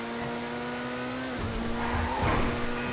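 Progen Itali GTB supercar driven in GTA 5, a steady high engine drone that shifts and surges near the end with a brief tyre-scrub burst.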